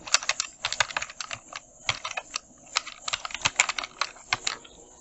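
Rapid typing on a computer keyboard, close and clear, with irregular bursts of crisp key clicks and brief pauses between runs.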